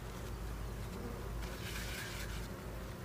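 Honeybees buzz densely and continuously at a large hive colony on a farm in Manoa, a close, steady hum with no talking.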